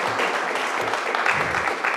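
Audience clapping at a city commission meeting, a steady unbroken wash of applause from a roomful of people lasting the whole two seconds, fairly loud and close.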